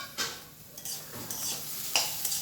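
Spatula stirring papaya and carrot frying in a pan, with a few soft scrapes and a light sizzle in a quiet kitchen.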